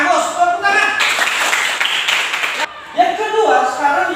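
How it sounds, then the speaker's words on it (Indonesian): Classroom applause, a burst of clapping hands from a group of students that rises, holds for a couple of seconds and stops, with a teacher's voice speaking before and after. "Bagus, tepuk tangan."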